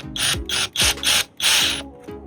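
A hand tool turning an eye hook into pre-drilled wood during a front porch makeover: a run of bursts of ratcheting, grinding turns separated by short pauses, close and fairly loud, with no talking.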